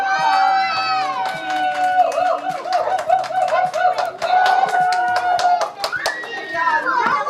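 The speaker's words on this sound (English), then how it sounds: "Give her a round of applause." A school board meeting audience gives a round of applause for a district Employee of the Month, with sharp, rapid hand claps and cheering that continue throughout, mixed with excited voices talking and calling out over the clapping.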